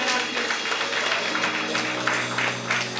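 An audience at the evening launch event of the ROC group applauds an organiser, with steady, crowded clapping from a full room and a sustained hum beneath it.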